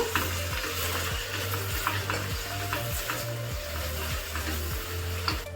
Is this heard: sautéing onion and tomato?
yes